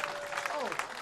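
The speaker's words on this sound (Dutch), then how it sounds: "Applaus!" Audience applause at a live liberation festival, a brief, dense patter of clapping from the crowd, with a voice speaking over it.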